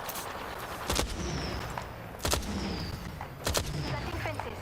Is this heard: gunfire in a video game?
yes